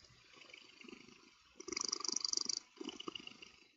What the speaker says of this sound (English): Do y'all hear this cat purring?